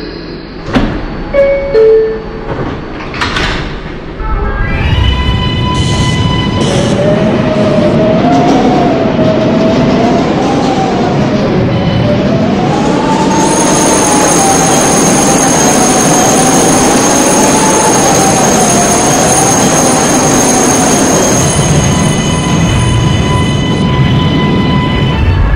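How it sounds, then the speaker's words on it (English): A video-game subway train, a Bronx-bound 6 local, hums and roars steadily along the rails, a rising-and-falling motor whine riding over heavy low rumble, with brief clatter at the start. "This is a Bronx-bound 6th local train."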